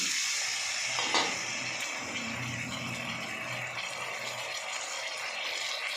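Potatoes sizzle steadily in a pan as a little water is added, producing a continuous loud frying hiss with a brief sharper burst near the start and no voices.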